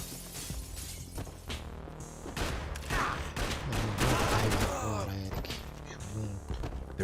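Gunfire in the video game Max Payne 3 mixed with glass shattering and crashing debris, rising into a loud, busy barrage of shots through the middle and tailing off near the end; no clear talking.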